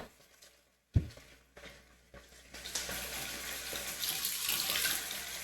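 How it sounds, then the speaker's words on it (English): Warm water runs from a kitchen tap while making pizza dough, a steady close hiss that starts after a sharp knock and grows fuller as the flow continues. "Let's have the water running for a sec."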